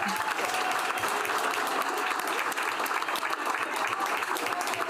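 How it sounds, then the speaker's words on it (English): A crowd at a school district board meeting claps in sustained, lively applause that holds steady throughout without pause. "Let's give the entire group one big round of applause"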